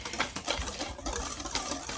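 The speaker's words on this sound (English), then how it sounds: "I'm going to give it a whisk." A whisk stirs dry scone ingredients, including the leavening agent and sugar, in a bowl, giving a steady, fast scratchy rattle of wire against the mix that carries on for about two seconds, close and moderately loud, with no talking.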